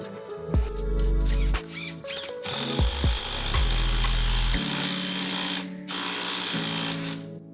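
A power tool fastens stair stringers into a wall stud during an 1800s house remodel, giving several loud bursts of whirring drive that start and stop, with short pauses between them.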